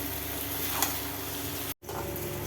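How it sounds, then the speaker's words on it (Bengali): Potatoes for aloo posto are stirred and fried in a pan, making a continuous hiss with a brief scrape partway through and a momentary cut-out of sound. "ভাজা ভাজা করতে গেলে আমার মতো নাড়তে হবে, নয়তো আটকে যায়।"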